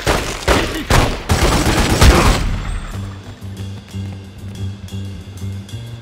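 Loud bursts of gunfire in The Godfather II on PC, a dense volley of shots at first, then the firing drops away under a steady rhythmic music beat.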